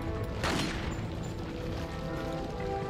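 Gunfire in Resident Evil 4 (2005), a loud booming shot with a sharp crack over a dense, continuous game soundscape, with no talking.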